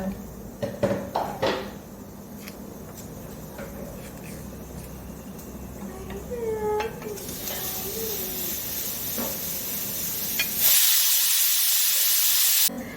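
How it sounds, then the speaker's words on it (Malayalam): A loud, rising hiss of steam bursts out near the end, a pressure cooker venting its whistle after some clinking and rustling in the kitchen. "പയർ കുക്കറിൽ വേവിക്കാൻ വെച്ചതിൻ്റെ വിസിൽ വന്നു"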